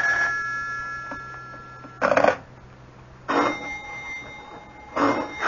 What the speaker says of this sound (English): Do something about that confounded phone. I can't, Mama. It'll just keep ringing.